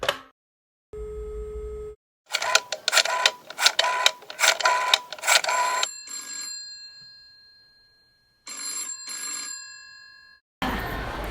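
An old-fashioned telephone rings in a radio drama, sounding as several bursts of electric bell ringing in a busy run, then shorter rings separated by pauses, with sustained tones between them and no voices.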